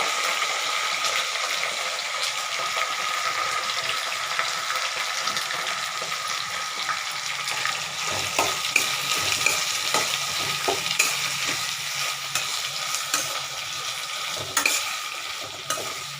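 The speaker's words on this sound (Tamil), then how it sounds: "நான் கத்திரிக்காய் கட் பண்ணிவிட்டு தண்ணியில் போட்டு வச்சுருக்கிறேன். அதை எடுத்து போட்டுக்கலாம்." Brinjal pieces fry with sautéed onions in a pan, a steady close sizzle with stirring scrapes and crackles running throughout, no talking.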